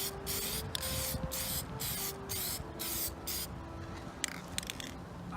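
Gloss black spray paint is sprayed onto a truck's radio dash in a series of short hissing bursts, several quick pulses separated by brief gaps, close and fairly loud.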